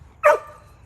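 A single short dog bark rings out in a garden at close range, one sharp burst standing alone over quiet background hum.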